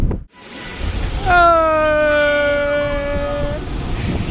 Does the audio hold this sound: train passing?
yes